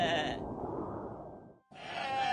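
A flock of goats bleats in a continuous low, wavering chorus that cuts off briefly and then resumes, close and clear with no talking.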